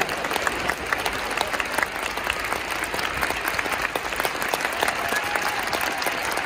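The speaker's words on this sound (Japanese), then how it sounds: "栗原選手にもう一度大きな拍手を送ってください。" A large stadium crowd applauds steadily at a Yokohama F. Marinos player's retirement ceremony, dense sustained clapping with a broad crowd murmur beneath, continuing evenly throughout.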